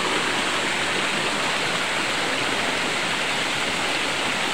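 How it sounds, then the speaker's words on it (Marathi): Waterfall near a bridge, a dense unbroken roar of falling water, loud and close, steady from start to finish with no voices. "धबधबा बघा काय भारी आहे."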